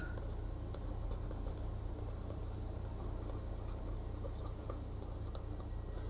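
Steady pen-on-paper scratching while the answer to a Class 6 maths integer exercise is written out by hand, a continuous close scribble with small strokes and pauses and no talking over it.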